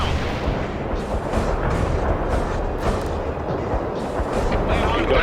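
An incendiary bomb strike in the World in Conflict strategy game brings continuous rumbling, crackling bursts of fire and explosions that roll on without pause. Dense and loud, the barrage runs under faint radio voices.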